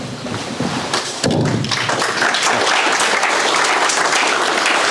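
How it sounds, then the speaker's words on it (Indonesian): An audience at an executive networking event claps steadily, softer at first and then swelling into dense, sustained applause with scattered thumps, close and loud throughout. "Ini sudah tepuk tangan seperti kode."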